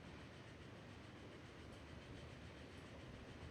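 A train in the railway game Transport Fever 2 rolls steadily along with a constant rumbling, faint clatter, an even, unbroken wash of track noise with no voices.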